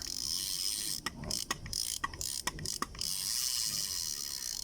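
A Daiwa Sportmatic GS 2000 fishing reel being cranked, giving a quiet rattling, clicking ball-bearing whir in several short bursts over faint background hiss.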